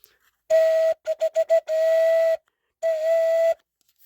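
A homemade polystyrene organ pipe blown by mouth, giving a steady hollow whistle-like tone: one long note, a quick series of short puffs, another sustained note, then a final long blow, close and clear.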